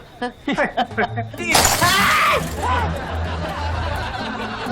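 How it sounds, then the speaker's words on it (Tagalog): A clay pot shatters loudly with a sharp crash and scattering fragments, preceded by excited voices and followed by people talking and laughing. "Basag! Yung paso ko!"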